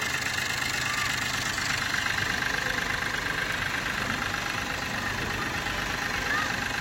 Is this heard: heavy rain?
no